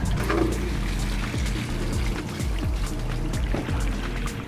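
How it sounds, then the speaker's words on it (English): A water pump at an excavation dig pumps water out of the hole, giving a steady, continuous gushing and churning rush with a low rhythmic throb underneath, close and fairly loud throughout. "We're going to purge the pump, which hopefully will then start pumping the water."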